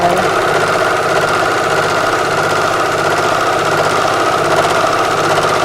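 An overlocker runs continuously, sewing a thread chain off the back of the presser foot: a loud, steady mechanical whirr with rapid rhythmic ticking, close up, with no talking.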